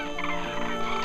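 A dense flock of migratory birds calls together over flooded riverside meadows in late winter, a continuous overlapping chorus of harsh, gobbling cries that holds loud and steady throughout.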